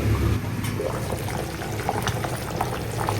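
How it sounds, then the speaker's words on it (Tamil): Steady bubbling and simmering of a pot of dried-fish curry on the boil, close by, with soft liquid gurgles throughout and no talking. "நல்லா கொதிக்குது."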